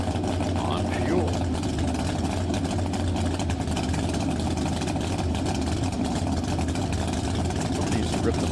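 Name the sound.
small V8 dry lake race car engine idling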